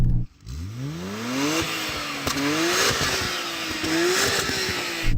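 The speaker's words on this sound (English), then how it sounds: "rev up your engine." A Nissan GT-R R34 engine revs up several times, each rise in pitch followed by a drop, loud and close with no talking.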